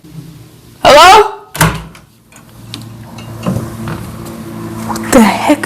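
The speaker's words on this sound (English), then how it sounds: "Who's that knocking?" Knocking on a door: a few sharp thuds come near the start, followed by quieter room noise and some voices.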